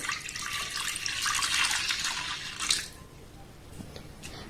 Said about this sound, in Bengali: এবার এখানে দিয়ে দেবো লিকুইড দুধ দু কাপের মতো দিয়ে দেবো